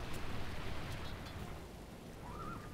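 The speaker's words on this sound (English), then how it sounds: "It's raining." Steady rain in the video game Rome: Total War, a soft continuous patter with a faint rumble underneath, heard alone at low level.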